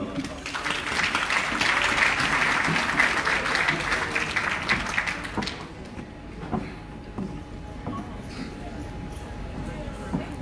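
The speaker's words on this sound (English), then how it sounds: "Give us a round of applause." An awards ceremony audience applauds loudly, a dense wash of clapping from many hands in a large hall that fades after about five seconds into scattered claps and room noise.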